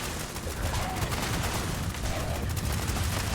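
Steady, dense gunfire in Fallout 76: a continuous wash of overlapping shots and crackle at a fairly loud, even level with no clear gaps, with no clear talk.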